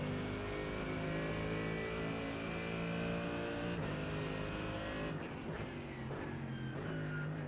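A race car engine in iRacing holds a steady, loud high-pitched drone, then shifts down with sharp revving blips as the car brakes into a corner, with no talk over it.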